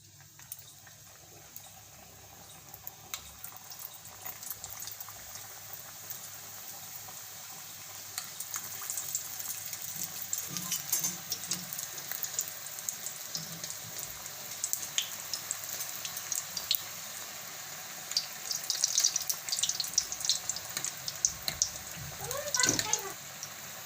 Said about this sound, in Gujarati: તો આ રીતે આપણે બધી બનાવી લેવાની છે તો આપણે આમાં તળી લઈશું